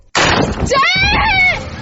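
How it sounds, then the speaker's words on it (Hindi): A woman screams in a dramatised horror story, a sudden loud rising shriek that wavers and holds for over a second, close and alone. "ऊपर जाने के लिए मैं जैसे ही मुड़ा कि अचानक से सुनैना की चीख सुनाई दी।"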